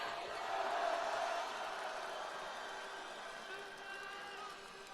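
A crowd at an outdoor Korean political rally applauds and cheers for the party leadership, a broad, distant wash of cheering and clapping that swells early and then slowly fades.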